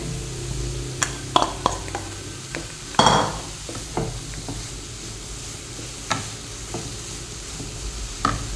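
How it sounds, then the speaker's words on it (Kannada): Carrot and radish frying in a pan while being cooked for a Kannada sweet recipe, with a steady low sizzle under repeated light stirring clicks and utensil taps against the pan, no talking. "ಇದೆಲ್ಲ ಒಟ್ಟು ಒಂದು ಹದಿನೈದು ನಿಮಿಷ ಫ್ರೈ ಮಾಡ್ಕೊಳ್ಬೇಕು"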